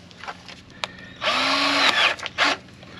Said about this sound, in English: drills nice and easy, that's for sure